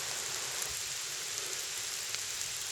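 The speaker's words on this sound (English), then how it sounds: "It's raining." Steady rain falls outdoors as a constant, even hiss with scattered faint drop ticks, moderately quiet and continuous, with no talking.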